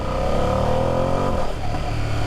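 A 2025 Ducati Panigale V2S motorcycle engine pulls hard under acceleration, a loud, steady rising drone that holds through the whole clip with a brief dip near the end.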